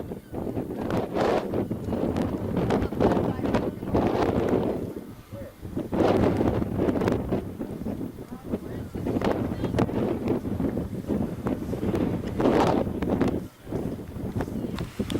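Strong wind buffets the microphone outdoors on volcanic ground in Antarctica, a continuous loud roar with gusty swells and brief dips, while a person talks over it.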